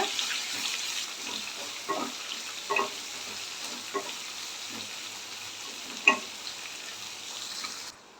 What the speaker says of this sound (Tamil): ஒரு பெரிய வெங்காயம் வந்து நீல வாக்கில் கட் பண்ணி வச்சுருக்கேன் அதையும் சேர்த்துக்கலாம் சேர்த்து கொஞ்சம் நல்லா வதக்கி விடுங்க